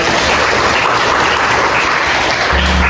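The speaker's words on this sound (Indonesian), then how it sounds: "Tepuk tangan buat kita semua." Audience applause at an Indonesian Islamic talk, dense steady clapping from a group, loud and continuous for a few seconds with no clear voice over it.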